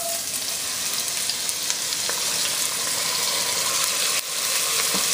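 Onions frying in melted butter while making crawfish fritters make a loud, dense, continuous sizzle with faint scattered crackles, steady throughout and alone with no talk.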